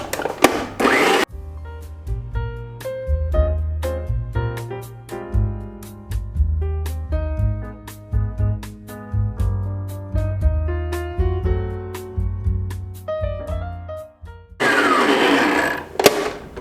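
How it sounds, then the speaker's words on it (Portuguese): An electric stand mixer beats basic cake batter in two short, loud, noisy whirring bursts at the start and end, separated by a long stretch of steady, tonal sounds. "eu vou ligar de novo a batedeira"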